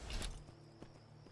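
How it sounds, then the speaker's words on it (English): A few hollow horse hoof clops sound on a hard surface in The Elder Scrolls V: Skyrim, quiet and brief, with a faint creak and a low tonal hum. "That's just a horse."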